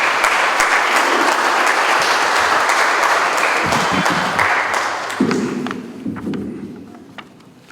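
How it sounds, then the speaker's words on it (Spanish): Audience applause welcoming a speaker at a ceremony in Ambato honoring a typographer and the founding of a local news outlet; dense, loud clapping that thins and fades toward the end. "Un aplauso para recibirle"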